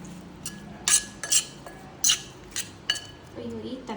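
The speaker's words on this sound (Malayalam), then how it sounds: "നന്നായിട്ട് മിക്സ് ചെയ്തെടുക്കാം." A spoon clinks against a bowl while salad with salt is mixed, giving a series of sharp separate taps and scrapes in an uneven rhythm, close and fairly loud.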